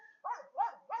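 A dog in a quiet Yorkshire village beside a brook gives three short, quiet barks or yelps in quick succession, slightly distant, with no talking.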